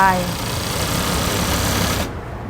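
A domestic sewing machine runs steadily with the foot pedal held down, sewing elastic into the waistband of very stretchy trouser fabric; a loud, continuous whirring hum that stops abruptly near the end.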